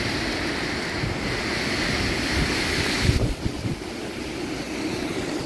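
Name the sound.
strong typhoon wind whistling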